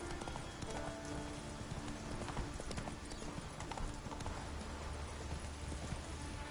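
Roach, a horse in a video game, gallops in steady clip-clopping hoofbeats, loud and close, under a dense game soundscape of music and ambience.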